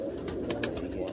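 A pet pigeon named Teddy, a parcel-flying bird, coos softly and continuously at close range in a brief stretch with no talk.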